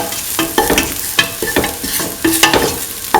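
Ingredients for tofu rice being stirred in a pan, with a spatula scraping and clattering in uneven strokes over a steady close sizzle of frying, loud and with no voices.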